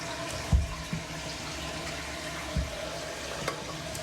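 A newly installed toilet's tank refilling with water, a quiet steady hiss and trickle of flowing water nearby, with a few soft knocks and clunks breaking the flow.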